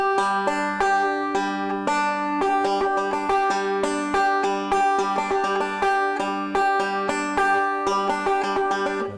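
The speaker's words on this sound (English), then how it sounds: "I'm playing the notes in the right order, but the rhythm's all over the place" A banjo roll picked in a steady stream of bright plucked notes, its rhythm uneven and unsteady with no metronome, played alone and fairly loud for about nine seconds.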